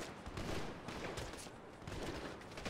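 Dense gunfire from a GTA V shootout, a sustained rattle of many overlapping shots with no pause, loud and continuous throughout.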